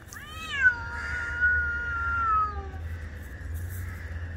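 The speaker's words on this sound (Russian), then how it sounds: "У нас мартовские коты, а тут февральские." Several cats meow and caterwaul in long, wavering, rising and falling wails, loud and close over a low background hum, with no talking.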